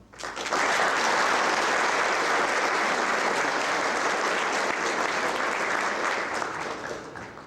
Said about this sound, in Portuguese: Por favor, demos un aplauso a Mayron Cristóbal Sontay y a Denison Emilio